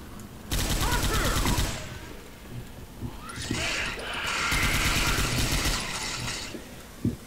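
Rapid gunfire bursts in Left 4 Dead 2, a zombie survival shooter, loud and overlapping with other game effects across most of the stretch, with brief quieter gaps.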